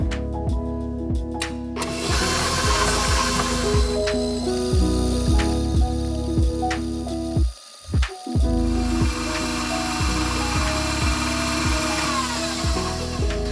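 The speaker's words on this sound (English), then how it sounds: "I'm gonna start whisking it on high." An electric hand mixer runs on high, whisking butter and sugar in a bowl, giving a steady close motor whir with repeated knocks and scrapes of the beaters against the bowl and a brief pause midway.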